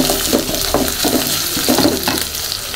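Onions, dried red chillies and cashews fry in hot oil, giving a steady, close sizzle with repeated stirring scrapes and soft clinks from a spoon against the pan, with no one speaking.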